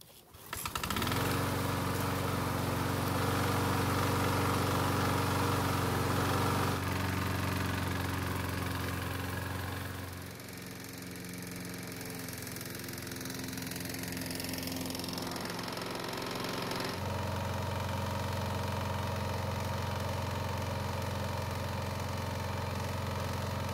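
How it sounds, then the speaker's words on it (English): A Troy-Bilt lawn mower engine runs on after an engine restorer treatment, starting abruptly and holding a loud, steady idle drone close by, with slight shifts in tone partway through. "So the engine has been running for 1 hour,"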